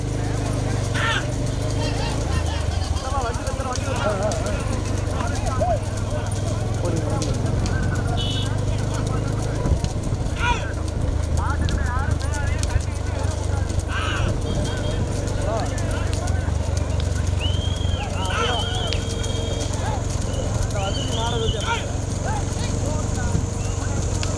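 Bulls pounding along in a big-bull bullock cart race at Vellavarai, Pudukkottai, their hooves a steady rapid clatter under a constant roar of crowd, wind and engine noise, with shouting voices throughout.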